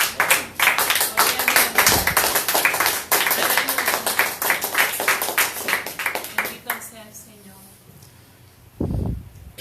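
A church congregation claps in praise, a dense run of sharp hand claps that thins out toward the end, followed by a brief low burst of sound.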